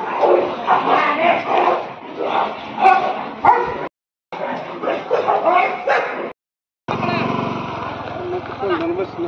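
Several dogs bark and yip excitedly in bursts, close by, mixed with whimpers and people talking, with brief gaps of silence.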